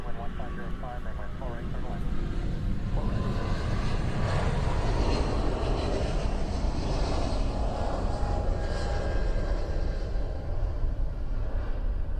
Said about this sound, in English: This is a Hawaiian 717